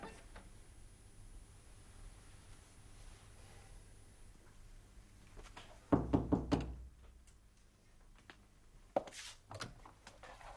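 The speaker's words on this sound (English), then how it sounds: "I'm glad you knocked." Several firm knocks on a door land in a quick cluster midway through a 1970s radio-style drama scene, with another isolated knock shortly after, over a faint room hiss.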